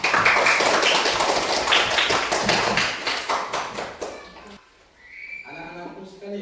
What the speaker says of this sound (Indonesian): Iya, saya berikan aplaus kepada kita.